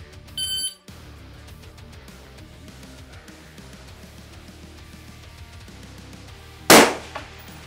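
An electronic shot timer gives a short, sharp beep, then after a few seconds of quiet outdoor ambience a single loud, cracking shot rings out from a Ridgeline Defense RD-15 LPR rifle.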